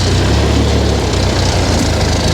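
A Ranger utility vehicle engine runs steadily at a low, even idle, with a wire spinning jenny turning alongside during fence installation. The rumble is continuous and close, with no voices.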